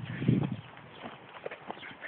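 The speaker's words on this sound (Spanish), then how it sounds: "Acá calientan el caballo, practican." A horse's hooves clip-clop on the ground of a warm-up arena at a jumping competition. The footfalls sound at a moderate distance, with a louder burst near the start, and soft background noise continues throughout.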